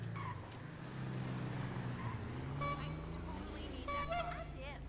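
In Grand Theft Auto V, a car horn honks in short bursts over a low engine rumble, quiet and somewhat distant, with a voice talking underneath.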